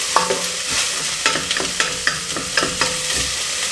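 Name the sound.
mussels added to pan with celery and spring onion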